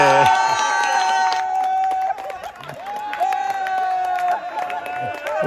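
Spectators cheering after a wicket falls at a local turf cricket tournament match, a loud sustained roar of crowd voices with whistles and shouts, steady and close throughout.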